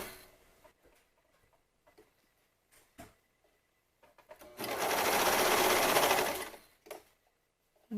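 A sewing machine stitches over a thicker sports bra seam in one loud, steady whirring run of about two seconds, set between soft handling taps and clicks.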